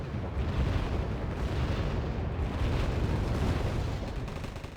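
Explosion as an SU-22 jet is shot down in the Wargame Red Dragon video game; a dense, rumbling blast roar lasts several seconds at steady loudness, with no talk.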